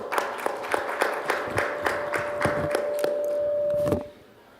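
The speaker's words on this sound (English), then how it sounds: "please give a round of applause to our panelists" Scattered, fairly light applause from a panel-session audience at a conference on African debt and reparative justice, with individual claps distinct over a steady tonal hum, stopping abruptly near the end.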